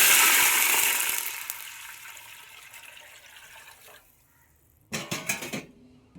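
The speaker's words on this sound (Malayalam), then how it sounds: "അപ്പോൾ നമ്മൾ എടുത്തു വെച്ചിരിക്കുന്ന വെള്ളം ഇതിലേക്ക് ഒഴിച്ച് കൊടുക്കാം" Water poured into a hot pan for prawn biryani gives a loud rushing splash and sizzle that slowly dies down, followed by a short burst of renewed bubbling sizzle near the end.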